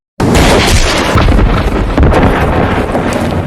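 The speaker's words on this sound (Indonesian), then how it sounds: "Becker membidik si anak buah dengan akan memanfaatkan refleks jari saat ia menembak urat tangannya" A gunshot in a sniper film scene erupts as a sudden, very loud boom that rolls on as a sustained rumbling blast and echo, with no talk over it.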